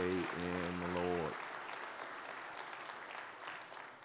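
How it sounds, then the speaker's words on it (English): A church congregation at a Baptist worship service breaks into sustained applause, a broad steady wash of clapping that follows a short tonal sound and slowly fades. "let's just give yourselves and them a round of applause for this glorious day in the Lord."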